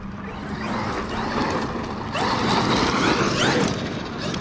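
A stock Traxxas XRT RC truck runs at full throttle, a steady, loud motor whine and drivetrain rush with tire noise that swells slightly partway through, no voices.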